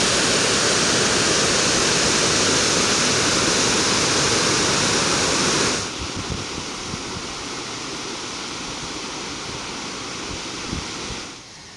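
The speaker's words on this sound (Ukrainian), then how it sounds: "Я часто знімаю цей кадр і ще раз не можу не милуватися потоком цієї стрімкої води." Swift water rushes below a river dam in a loud, steady roar that drops to a softer, continuous flow halfway through, heard nearby with no voices.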